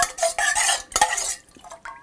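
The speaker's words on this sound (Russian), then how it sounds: "Ложку выполоскую в остатке маринада." Metal spoon clinking and scraping against a jar as it is rinsed in leftover pepper marinade, a few quick bursts of stirring and rattling, close by with no talk.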